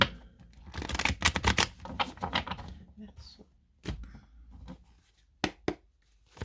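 A deck of tarot cards being cut and handled, with a quick flurry of papery slaps and riffles up close, then a few sharper isolated snaps, under and between soft talk.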